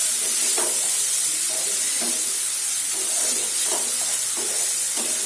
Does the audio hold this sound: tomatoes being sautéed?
yes